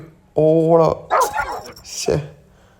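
A dog barks in Call of Duty Mobile, one loud bark followed by a few shorter yelps, mixed in with a player talking.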